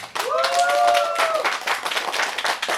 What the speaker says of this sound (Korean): 여러분들 응원의 박수 한번 주시면 어떠실까요?